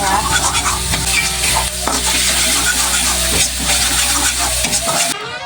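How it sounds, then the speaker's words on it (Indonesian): Spice paste sautéing in oil in a pan while a chicken meatball soup is being made, with loud steady sizzling and frying and the scrape of stirring throughout, then cutting off abruptly. "Ini kita tumis pakai minyak sampai bumbunya matang ya."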